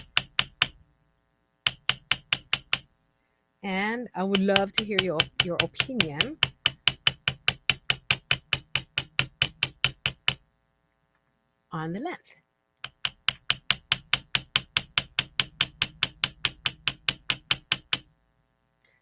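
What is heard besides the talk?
hammering metal earring wire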